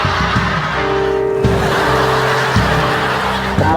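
Motorbike engine running on its own with no rider, a loud close revving drone with tire-like squeal tones and abrupt pitch shifts, faint voices mixed in.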